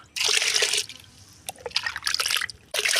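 Onion peel and tea leaf water poured out by the mugful into liquid organic fertilizer: splashy bursts of pouring water separated by short pauses and trickles, close and fairly loud, with no speech.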